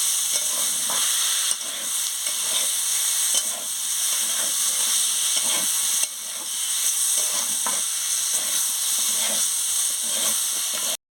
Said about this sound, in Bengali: মশলাটা কষানো হয়ে গেছে, আমি আলু আর পেঁপেটা দিয়ে দিচ্ছি। দিয়ে ভালো করে কষিয়ে নিচ্ছি।